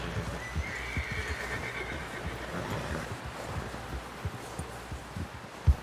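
A horse neighs and whinnies in the Red Dead Redemption 2 game world, with hooves clopping and shuffling under it, close and moderately loud with no talk.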